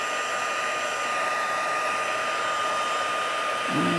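Heat embossing tool blowing hot air onto embossing powder on patterned paper, a steady close whirring fan hum with a constant whine throughout, no voice.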